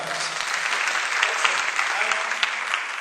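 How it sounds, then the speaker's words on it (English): Warm, sustained applause from a conference audience during a welcome speech at a media festival, dense overlapping claps throughout with a few sharper individual claps standing out. "I think you all deserve a round of applause."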